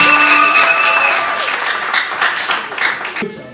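Wedding guests break into loud, sustained applause, a dense wash of clapping that starts strong and tapers slightly before cutting off near the end.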